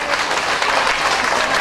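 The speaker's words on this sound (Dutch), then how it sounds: "Hartelijk applaus." Applause from a crowd at a local festival's children's playback show, heard as a continuous, even roar of clapping from start to finish.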